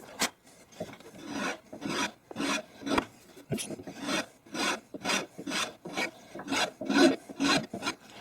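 A file rasps across the wooden stock of an Arsenal AK in roughly a dozen rhythmic strokes, close and fairly loud, with short pauses between each pass.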